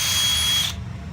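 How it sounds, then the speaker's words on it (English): A power drill whines loudly while drilling out a hole in blacksmith and welding work, then cuts off abruptly partway through, leaving a low rumble behind. "Go ahead and drill this out"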